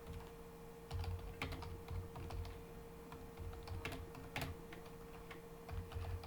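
Rapid, steady keystrokes on a computer keyboard as a sentence is entered, close and continuous with a low hum underneath and no talking.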